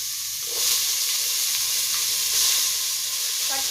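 Onions sizzle steadily in hot oil, a loud, even, hissing fry close by that swells slightly at times, with a few faint utensil touches near the end and no talking.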